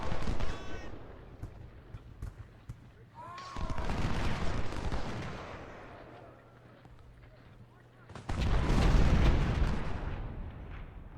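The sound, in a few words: artillery guns firing in the video game Ultimate General: Civil War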